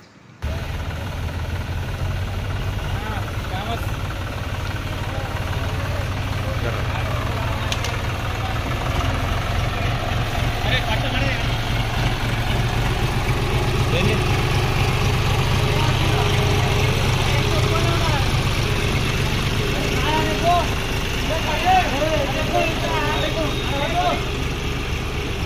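A tractor carrying a Ganesh idol idles with a steady low rumble throughout, while people talk and chatter around it and faint crowd noise rises in the background.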